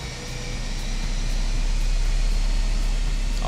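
A steady jet engine drones inside the Just Flight F28 airliner in a flight simulator game, a broad continuous roar with low rumble that holds level and close throughout, no talking.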